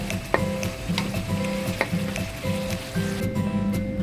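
A Filipino vegetable stew (pinakbet) with sweet potato stirred in a pot, steady loud sizzling and bubbling with scraping stirs and light clinks of a utensil against the pot, no voices.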